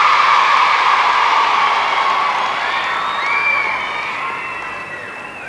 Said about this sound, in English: Tremendous cheer for Karen Hargate